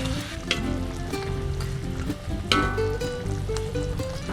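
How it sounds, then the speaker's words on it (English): Fish drops into bubbling sweet and sour acar gravy for Penang Nyonya acar fish, giving a steady sizzle and simmer with a few sharp splashy clicks and stirring knocks near the pot. "Now once it is boiling, add the fish in it"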